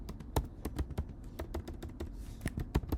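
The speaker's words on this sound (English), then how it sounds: "And when I simply type Python," Computer keyboard typing while entering a Python command, with a steady run of sharp, close keystrokes that are loud and clear over quiet background hiss, no voice.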